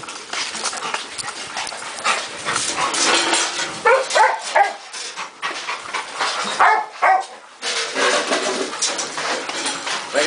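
Dogs on a farm bark repeatedly in busy, overlapping bursts, with whimpering and panting mixed in and birds chirping in the background.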